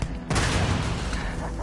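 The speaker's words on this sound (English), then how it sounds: "Grenade in the air!" A heavy grenade explosion in the video game Starfield booms up sharply and rolls on as a loud, sustained blast rumble.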